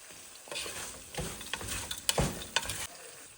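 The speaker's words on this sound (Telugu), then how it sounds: "పచ్చిమిరపకాయలు వేసేస్తున్నానండి, వేగాలి కదా." Green chilies sizzle and crackle as they fry with salt in a pan while being stirred for gongura pulihora, with uneven bursts of frying noise and scraping, close and fairly soft, no talking.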